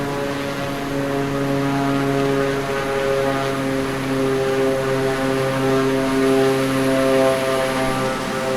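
Airplane landing in Microsoft Flight Simulator 2024, a loud continuous propeller engine drone with steady tonal hum and slight swells, heard alone without voices.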